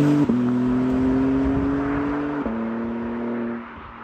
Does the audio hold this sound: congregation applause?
no